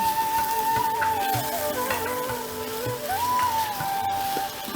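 Spices sizzle and fry in ghee in a pan on a gas stove while being stirred, with a steady sizzling hiss and intermittent scraping strokes of the spoon, moderately close and with no voices.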